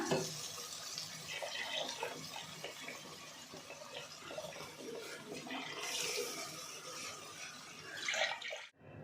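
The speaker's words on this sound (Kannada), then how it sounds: "ಸ್ವಲ್ಪ ನೀರು ಹಾಕ್ಕೊಳ್ಳೋಣ" Water poured into a simmering mutton keema ball curry over ground masala, a steady splashing, gurgling pour heard up close throughout, with a brief brighter splash near the end.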